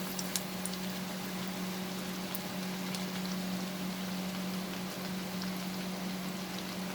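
Brinjal fritters (beguni) fry in hot oil with a steady, soft sizzle and scattered crackles over a low hum.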